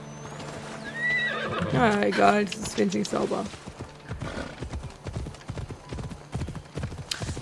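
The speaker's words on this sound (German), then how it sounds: "wo ist denn jetzt mein Pferd? Das läuft gerade durchs Wasser." Horse neighing and hoofbeats from the video game Assassin's Creed Odyssey, the horse running through water: a clear whinny early on followed by rhythmic clip-clop steps, while someone talks over the game sounds.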